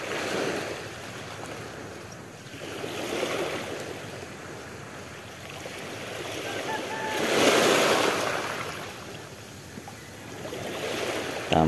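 Gentle waves of a calm, clear sea washing in and out, soft swells of surf rising and fading at a slow, even pace.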